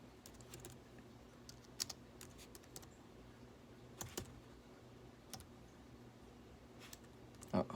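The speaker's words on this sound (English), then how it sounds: "So this is where you would type in your monthly summary notes." Light, quiet clicking of computer keyboard keys in scattered short bursts over a steady background hum, with a few sharper taps near the end.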